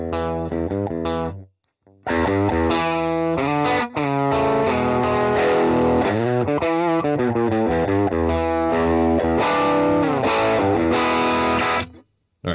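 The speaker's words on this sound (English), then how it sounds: "that's a good crunch tone if you ask me" Overdriven electric guitar with a crunchy, distorted tone, dialed in through overdrive and boost pedals for worship music, played as sustained chords and riffs with brief gaps, loud and close.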